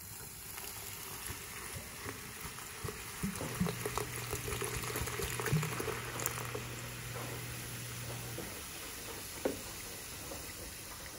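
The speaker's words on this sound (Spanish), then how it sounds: "Añadimos una botella de soda." Soda fizzes and gurgles as it is poured from a bottle into a blender for lemonade, a faint, steady bubbling pour of several seconds with a low hum underneath.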